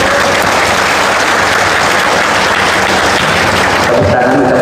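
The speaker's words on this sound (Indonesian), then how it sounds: "Tepuk tangan" Crowd at an Indonesian character-education gathering clapping loudly and continuously, many hands close by in a steady dense wash that thins slightly near the end.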